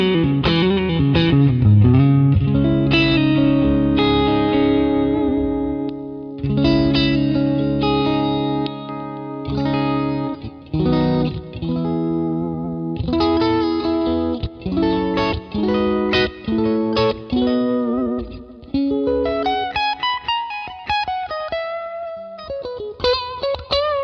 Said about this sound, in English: That is a big guitar sound now.